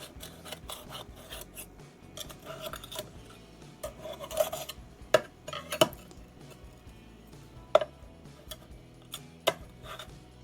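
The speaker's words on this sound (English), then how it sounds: "just take a knife, run it around the edges of your loaf" A table knife scraped around the inside edges of a metal loaf pan holding baked banana cinnamon raisin bread, giving close, irregular metallic scrapes and sharp clinks with short pauses between strokes.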